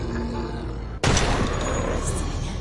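Gunfire in a zombie village survival game, with one sharp shot cracking out loud and close, then dense, rapid firing rolling on steadily for over a second.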